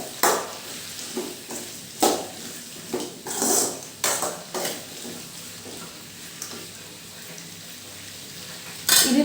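Chillies sautéed in a pan for chutney: a series of sharp scraping and clattering strokes from a spoon against the pan over a faint sizzle, louder bursts early on, then quieter stirring, with a final clank at the end.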